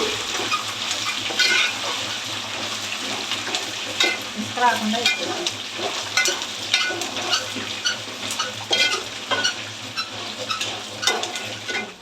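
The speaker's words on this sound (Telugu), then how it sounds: "ఇంకా పులిహోరకైతే అమ్మ పోపు అయితే పెడుతున్నారండి" Tempering for pulihora sizzles and crackles in hot oil while a spoon stirs and scrapes the pan in irregular bursts, close up and continuous with no talking.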